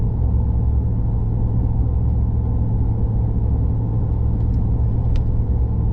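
Inside the cab of a 2019 RAM Power Wagon rolling on BFG KM3 tires, a steady, loud low rumble of road and engine noise with no speech.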